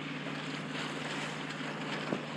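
A boat motoring up the California coast toward Ventura against the current, wind and waves, heard as a steady low engine drone under constant rushing wind and water noise, with one brief knock near the end.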